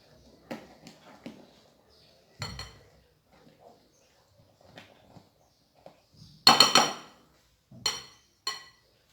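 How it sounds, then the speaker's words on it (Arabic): Ice cream mixture stirred with a spatula in a bowl, giving scattered light scrapes and clinks, soft at first and then a cluster of louder knocks against the bowl near the end. "ونحركو غير بسباتول"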